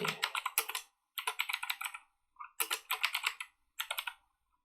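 Typing on a computer keyboard while working in a notebook, with bursts of rapid key clicks separated by short pauses, close and clear, no talking.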